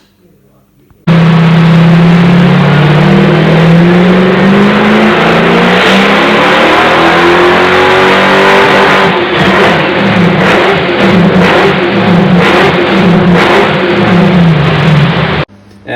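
A car with a custom-built rally exhaust system, X-pipe running back toward the rear axle, revs loudly and close, a deep engine roar climbing then holding and pulsing for about fourteen seconds before cutting off abruptly.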